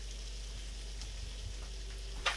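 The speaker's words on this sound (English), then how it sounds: "2, 3 heaping tablespoons of flour in there, and I'm going to start stirring that around." Flour being stirred into hot fat for biscuit gravy gives a soft, even sizzle in a pan, faint and close, with light scraping strokes and a brief sharper clatter near the end.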